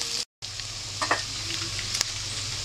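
Chicken with carrots and olives sautéing in a pan until dark brown, a low continuous sizzle with a few light stirring scrapes, briefly cut to silence near the start, no talking.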